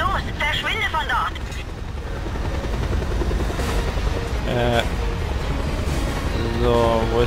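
Helicopter rotor drone and bursts of gunfire in the video game Just Cause 2, a steady loud mechanical rumble with periodic rapid-fire bursts and talk over it.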